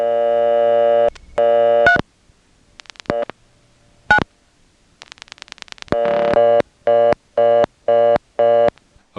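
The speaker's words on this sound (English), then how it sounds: "If we still get a reorder, it suggests that it's simply a vacant level." Telephone tones on an old independent step-by-step switching exchange in Nantes, Quebec: steady tone, dial pulses, then a fast repeating reorder signal after dialing a vacant level, loud and clear with no voices.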